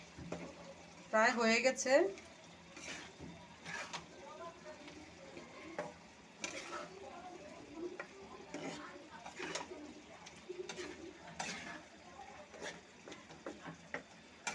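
A spatula stirs small fish chachchari with coriander leaves in a pan, giving quiet, intermittent scraping and a light sizzle close by, with a short spoken remark near the start.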